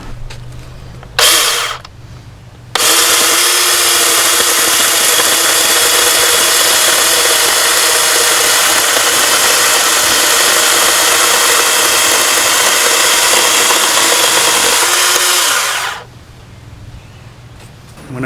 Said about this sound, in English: Now we see the chainsaw in action. It's very quiet since it's an electric chainsaw.